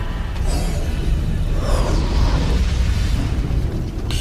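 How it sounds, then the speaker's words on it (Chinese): A chain of ammunition explosions blasts through a soul-weapon battle position in the animated series Soul Land 2, a loud, continuous rolling roar that swells and churns without pause. "应该是引爆了魂导阵地内的弹药，引发连环爆炸的结果"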